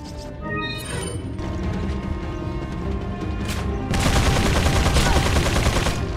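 Rapid gunfire and mechanical clatter from the Resident Evil 4 Separate Ways campaign, a dense continuous stream of shots that swells louder partway through, with no talking.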